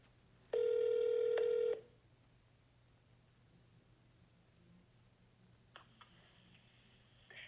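Calling the Tesla phone line produces a loud, steady electronic telephone tone that lasts just over a second. A long quiet stretch with faint background hum follows, then a fainter, similar tone near the end.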